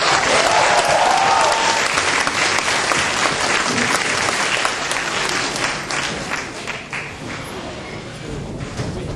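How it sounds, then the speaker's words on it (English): A gala audience fills the hall with loud, sustained applause that gradually thins toward the end, mixed with scattered crowd noise. "give a warm round of applause for a great man, Ryan Nguyễn-Hubris"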